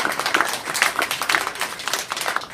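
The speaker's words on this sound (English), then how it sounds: "Perhaps a round of applause for our panelists." Audience clapping for the panelists at the close of a public education debate at USC, a steady patter of many hands filling the room, moderately loud with no voices over it.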